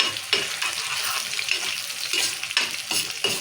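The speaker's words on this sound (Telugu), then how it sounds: "ఇప్పుడు టమాటా ఉల్లిగడ్డ పేస్ట్ వేసాం కదా నూనెలో మంచిగా మసాలే" Tomato-onion paste fries in oil for an egg curry, crackling and sizzling steadily at close range, with bursts of stirring swelling the sound every second or so.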